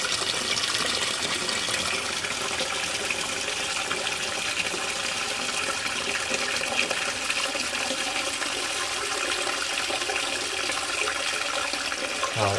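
Water rushes and gurgles continuously from a 1970s low-level avocado Armitage Shanks Magnia WC as the system drains, a steady, fairly loud wash with no talk.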